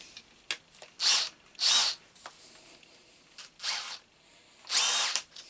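A DeWalt drill with a jammed keyless chuck runs in four or five short, loud bursts of whirring motor, with quiet pauses and small clicks between them.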